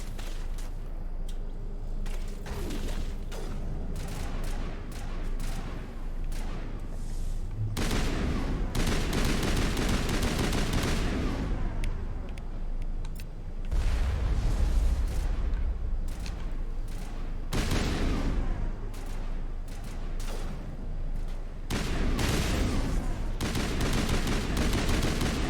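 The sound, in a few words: pistol gunfire in the video game Mass Effect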